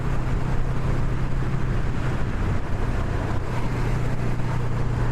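Honda Rebel 500 motorcycle pulling in fifth gear toward 80, a steady low engine hum beneath constant loud wind rush, unbroken for the full stretch with no speech.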